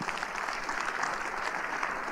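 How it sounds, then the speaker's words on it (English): Audience applause for two distinguished speakers at a forum on non-traditional threats and emerging technologies, a steady dense clapping that fills the whole short stretch without any voices. "please join me in our appreciation of our two distinguished speakers with a round of applause"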